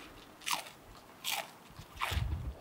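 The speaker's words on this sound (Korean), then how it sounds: "진짜 아삭아삭 소리가 난다 나." Three crisp crunches of fresh green leaf lettuce being bitten, close and fairly quiet, spaced about a second apart with soft chewing between them.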